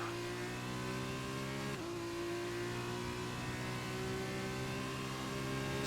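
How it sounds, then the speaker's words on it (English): A race car engine from a Formula 2 racing video game drones steadily at high revs, with a brief dip as it shifts, then climbs again, loud and continuous with no talking. "I can just barely hear the engine sounds."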